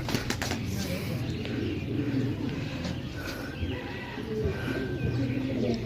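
Pigeons for sale coo and chirp steadily at a market, a dense layer of bird calls with occasional wing flaps and faint voices mixed in.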